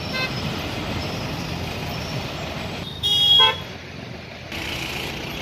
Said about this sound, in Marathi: ट्रॅफिक जॅम जाता थंय